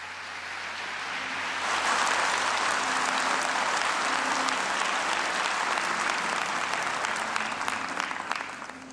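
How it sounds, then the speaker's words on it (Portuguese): A church congregation applauds during a Catholic priest's sermon, a dense, loud wave of clapping that builds after a second and holds steady until it tapers off at the end. "pode aplaudir"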